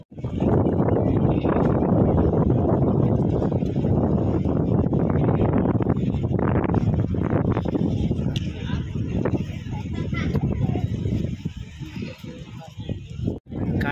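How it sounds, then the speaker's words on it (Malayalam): Strong wind gusting at a seashore at night in Murudeshwar, roaring and buffeting the microphone loudly and continuously, with rumbling low-end bursts throughout and voices faintly in the mix. "ഭയങ്കര കാറ്റായി ഇവിടെ"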